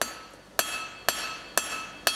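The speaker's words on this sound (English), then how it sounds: "I'm going to bring that hammer even further up the bar and run it down to the tip." A hand hammer strikes a hot steel bar on the anvil while forging a taper, five sharp ringing blows at a steady rhythm about half a second apart, close and clear.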